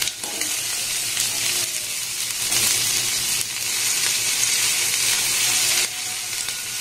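Chopped onion and green chili frying in hot oil with whole cumin, a loud steady sizzle with bursts of stirring, alone without speech.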